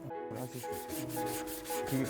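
Steady, rasping strokes of sandpaper on wood rub back and forth continuously, close and fairly loud, with faint tonal background sound underneath.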